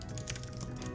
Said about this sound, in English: Let's just actually type out this data.